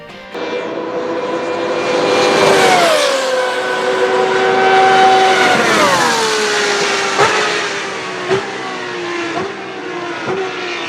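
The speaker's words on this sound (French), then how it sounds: "une monoplace munie d'un moteur Menard V12" A high-revving Menard 4.2-litre V12 single-seater race car engine screams past, pitch rising and falling through gear changes, loud and close before fading slightly.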